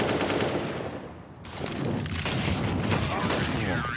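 Rapid gunfire bursts in a Counter-Strike: Global Offensive match on Dust2, dense and loud, with a brief lull near the middle, while a commentator talks over the shooting.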